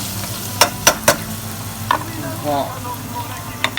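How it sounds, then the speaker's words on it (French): Garlic fries in oil in a pan with a steady sizzle, punctuated by several sharp utensil clicks and scrapes, close and fairly loud, while a voice briefly talks. "Une fois que l'ail est bien dans l'huile, tu la fais frire un peu, tu fais frire un peu tout ça"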